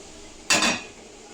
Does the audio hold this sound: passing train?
no